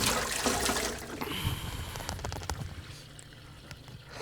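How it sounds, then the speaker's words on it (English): Water from soaked potatoes pours out into a colander in a kitchen, a loud, close rushing splash at first that thins into a steady trickle and drips. "I'm just going to drain them into a colander"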